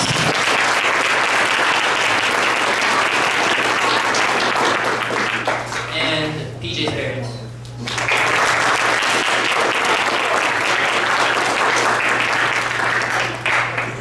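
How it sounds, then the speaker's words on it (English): A banquet crowd applauds the parents of players at a boys' water polo team dinner, loud steady clapping that dips briefly while a voice speaks, then swells again and carries on to the end. "Give them a round of applause."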